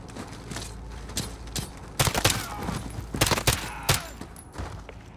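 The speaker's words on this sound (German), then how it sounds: "Schieße auf die zwei links." Bursts of gunfire from the video game Call of Duty: Modern Warfare (2019) crackle in rapid volleys over a steady background rumble, with sharp shots clustered in the middle.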